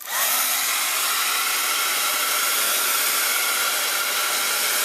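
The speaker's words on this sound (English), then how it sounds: "I'll go ahead and dry that with my heat tool." A heat embossing tool dries shimmer drops on a paper card panel with a steady, close, airy whir that starts at once and holds evenly to the end. No voices are heard.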